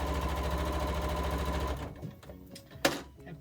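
Sewing machine back stitching fabric layers including PUL for a sewn transport bag, a steady close motor hum and needle rhythm that stops after under two seconds, then a few soft handling clicks and rustles.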